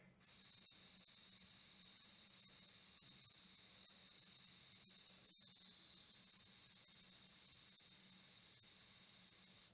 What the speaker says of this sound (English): So this is just the airbrush.